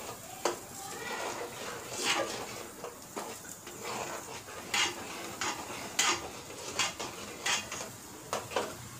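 A spoon scrapes and knocks around a metal pot in repeated strokes, stirring tempering for pongal, with a faint sizzle underneath.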